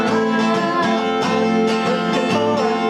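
An acoustic guitar is strummed in a brisk up-down pattern with three quick upstrokes in a row. Bright, even chord strokes repeat steadily and close up, with no voices.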